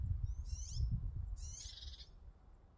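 Near a blossoming neighbourhood cherry tree in Portugal, a bird gives two clear, high, warbling calls about a second apart, heard over a low outdoor rumble with no talking.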